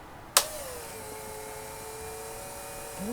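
A Mercedes R107 280SL fuel distributor with a damaged diaphragm running on a test rig: a sharp switch-on click, then a steady, close whirring hum that holds for several seconds and starts to rise at the end.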